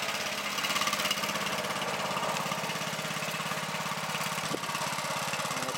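A riding lawn mower engine runs steadily in January snow in Canada, a close, throbbing mid-pitched idle with an even pulsing rhythm and a brief dip near the end.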